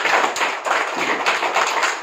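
An audience at a spiritual gathering claps hands in a dense, steady patter of many overlapping claps that continues throughout, with no voices.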